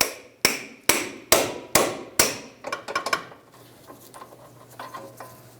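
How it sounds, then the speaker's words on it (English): A pickle fork is hammered between the lower ball joint and the control arm of a 2012-2016 Subaru Impreza. About six sharp, evenly spaced metallic blows ring close and loud, then give way to quieter shuffling and clinks. "We're going to use a pickle fork. Come right in between this area and we'll separate it."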